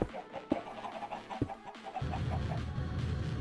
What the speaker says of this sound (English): So loud with the chickens over here.